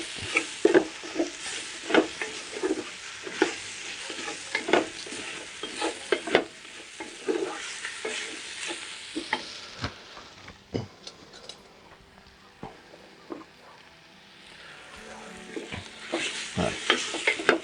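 Curry powder and other ingredients sizzle steadily in oil for a wild goat curry while a utensil scrapes and stirs the pan in repeated clattering strokes, close and fairly loud throughout.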